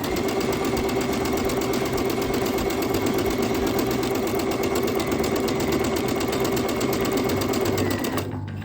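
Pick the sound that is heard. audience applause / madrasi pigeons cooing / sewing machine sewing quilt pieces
sewing machine sewing quilt pieces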